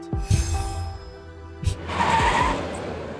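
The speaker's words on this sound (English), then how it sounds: "The truck shudders to a stop." A truck engine rumbles and surges nearby in a video game, with a couple of thuds and a hiss as it shudders to a halt.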